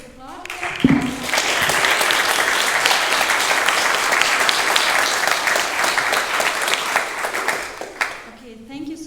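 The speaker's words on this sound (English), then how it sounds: "Maybe we could applaud." A large forum audience breaks into sustained applause following a round of presentations, a dense, loud wash of clapping that holds steady for several seconds before tapering off at the end.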